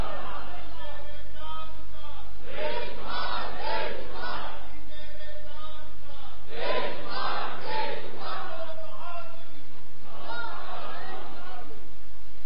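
A crowd at a religious-political rally honoring a national hero shouts slogans in unison, three loud chanted bursts recurring at roughly four-second intervals with murmuring between them.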